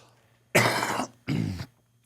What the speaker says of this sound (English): My apologies on coughing.